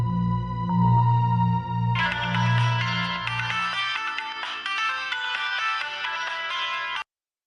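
A melodic phone ringtone plays loud and steady for about seven seconds in a Bhojpuri TV drama scene, starting over a low musical backing that drops away partway through, then stopping abruptly.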